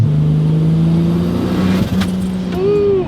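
A big-turbo Chevy Trailblazer with an ATLAS engine pulls hard from a launch, a loud, steady engine drone that rises in pitch, with a brief dip and a whining climb near the end.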